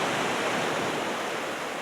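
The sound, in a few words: sea waves at high tide on beach, Barry Island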